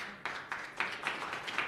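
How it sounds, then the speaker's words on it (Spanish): Congregation applauding in a church service, a short run of rhythmic group clapping in regular bursts, moderately loud. "Le damos un fuerte aplauso al Señor"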